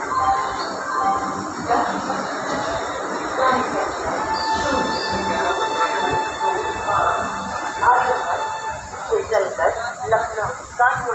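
A train departing Barabanki station in India, steady rolling rumble with squealing wheels and clattering toward the end, heard from on board or nearby with voices in the background.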